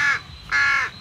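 Two loud, harsh crow caws close by, the first short and the second longer, separated by a brief pause, with faint background rustle and no talking.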